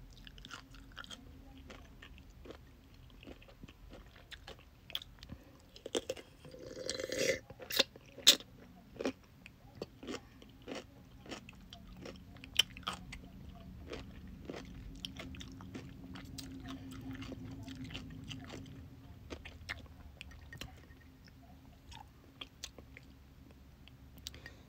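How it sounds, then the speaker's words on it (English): Crunchy pickles are bitten and chewed close to the mic in a quiet room, with sharp crisp crunches scattered over soft, wet chewing that continues throughout. "I'm not gonna be eating a bunch of pickles. I'm just gonna eat like two or three"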